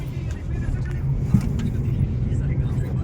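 Car being driven, a steady low engine and road rumble from inside the vehicle with faint rattles; voices talk over it.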